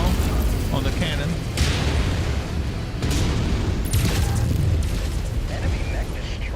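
Heavy explosions and booming weapon fire from mech combat in MechWarrior 5: Mercenaries, with a dense, continuous rumble and several sharp bursts as an enemy mech is destroyed, under a synthesized announcer voice.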